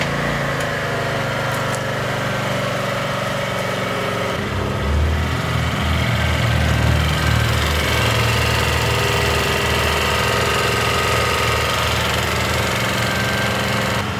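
Small gasoline engine on a hybrid-electric wheelchair running steadily for the whole stretch, a continuous close rattling drone that thickens and deepens partway through, with no voices over it.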